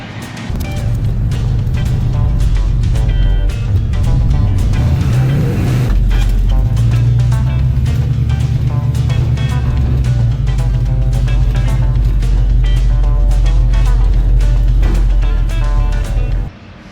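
A 1954 Chevy car engine runs loud and close for the whole stretch, a steady low rumble with some shifts in pitch, and it cuts off at the end.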